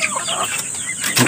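Chickens clucking inside a coop on a farm, a few close, loud clucks and squawks in quick succession with a brief sharper call near the end, no talking.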